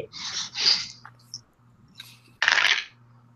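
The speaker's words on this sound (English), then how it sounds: "I'm just rolling dice." Dice for a board game rattle and clatter in a few short bursts, a near, quiet shake-and-tumble with small clicks, over a low steady background hum.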